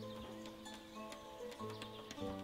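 Hooves of oxen clop steadily in the village-building game Ostriv, a soft, regular clip-clop under faint tonal game music, fairly quiet and close.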